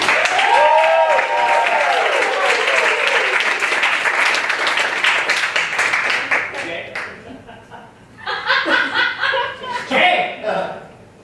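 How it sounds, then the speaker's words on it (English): Audience at a live comedy show applauding a producer and director, loud dense clapping mixed with laughter and chuckles that thins after several seconds, with voices talking and laughing near the end. "So please give a big round of applause for Jay Malsky."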